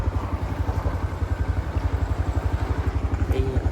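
A motorcycle engine idles nearby with a steady, rapid thumping pulse that stays even throughout, with faint background sounds around it.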